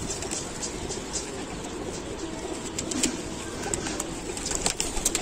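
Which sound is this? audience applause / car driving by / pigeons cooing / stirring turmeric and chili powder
pigeons cooing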